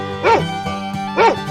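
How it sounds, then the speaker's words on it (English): A cartoonish dog in a 3D animal slide video game gives two short barks about a second apart over steady background game music. "Dog."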